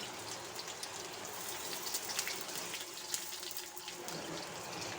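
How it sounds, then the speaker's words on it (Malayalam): Water being poured into a hot pan with shallots, green chillies and curry leaves for rava upma, a continuous splashing, bubbling hiss with small droplet ticks, close and fairly quiet, no voices. "കുറച്ച് വെള്ളം ഒഴിച്ച് പാകത്തിന് ഉപ്പും ചേർത്ത്"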